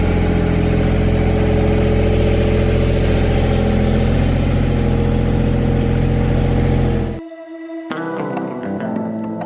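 A sailboat's engine drones steadily and loud while motor sailing, tacking back and forth in a channel on a passage from the USA to the Caribbean, then cuts off abruptly near the end, followed by quieter clicking and ticking sounds.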